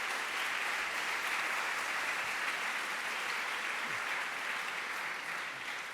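Steady, dense applause from a large conference audience at a tech talk, filling the whole stretch at an even level with no voices over it.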